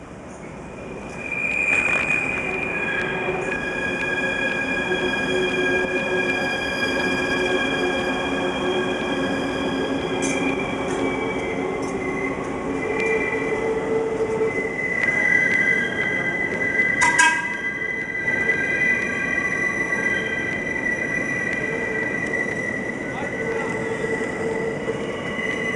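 A CSX freight train rolls past with a continuous rumble and long, high metallic wheel squeals that rise and hold throughout, and no one speaks.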